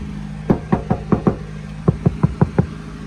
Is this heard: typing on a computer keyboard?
no